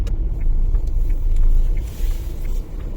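A car being moved gives off a close, low engine rumble that swells and eases over a few seconds, loud and steady throughout.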